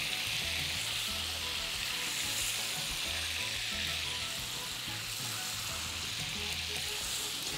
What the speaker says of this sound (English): The bananas are gonna cook for about 30 seconds right now before we add our rum.